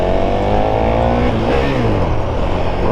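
A KTM Super Duke 1290 R motorcycle engine runs loud and close in neutral, its revs rising and falling over a few seconds with a rough, throaty rumble.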